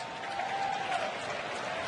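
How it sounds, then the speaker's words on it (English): Mock applause from St. Louis Cardinals fans in a baseball stadium during a Braves game, a distant, even wash of scattered clapping and crowd noise held at a low, steady level. "Mock applause by the Cardinal fans."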